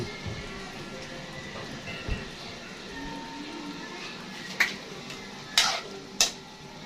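Duck stew simmering in a pan on a cheap, unevenly heated stove, a steady low sizzle with occasional stir scrapes and a few sharp clanks near the end, close and fairly quiet.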